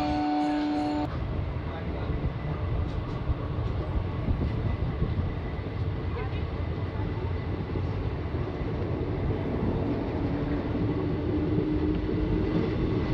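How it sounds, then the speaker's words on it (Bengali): The Ahmadpur-Katwa passenger train pulls out of a station with a short horn toot at the start, then a continuous rolling rumble of the carriages, heard from on board with faint talk in the background. "ট্রেনও ছেড়ে দিয়েছে এখান থেকে।"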